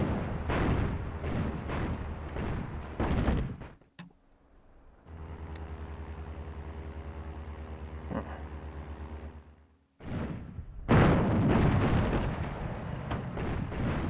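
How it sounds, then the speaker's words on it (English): Artillery in the WWII North Africa strategy game Attack at Dawn: Operation Crusader, heard as heavy rumbling blasts and booms at the start and end, with a low steady engine-like drone in between. "maybe if I use this artillery... Oh, it's too far. Let's move a bit closer with this artillery."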